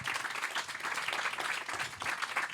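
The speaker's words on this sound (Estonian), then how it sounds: "on paslik nüüd teha väike aplaus meie panelistidele" A short round of audience applause for panelists at a discussion event, continuous crowd clapping with a slight swell near the end, no talking.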